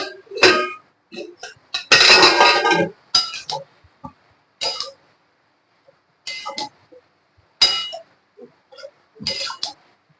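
A lid set onto a cooking pot of prawn and ash gourd malai curry, heard as sharp metallic clinks and clatters in scattered close bursts separated by quiet, with no talking.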